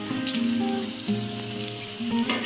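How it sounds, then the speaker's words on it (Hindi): Semolina pours into hot ghee in a kadhai, raising a steady, bright sizzle that runs continuously at close range beneath a soft background melody. "घी गर्म हो चुका है, अब हम इसमें सूजी डाल रहे हैं"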